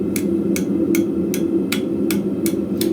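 Steel for a flint striker hammered on an anvil, eight evenly spaced sharp metallic blows over a steady background hum.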